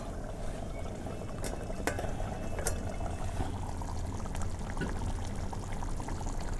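Water with mutton curry bubbling in a pot, a steady close simmering hiss and crackle with a few faint clinks, no talk.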